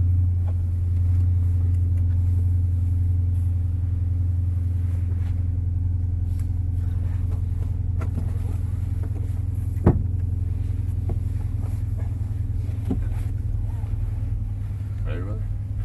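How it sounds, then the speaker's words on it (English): A deep, loud exhaust rumble from an idling 2017 Dodge Challenger R/T Scat Pack, steady and low, with a sharp blip partway through and a voice in the background. "Very loud exhaust"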